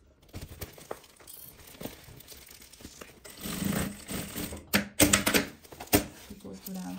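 A sewing machine stitches black material on a handmade thermal bag, its needle running in short bursts between pauses, the clatter growing louder and denser toward the end, with some handling rustle mixed in.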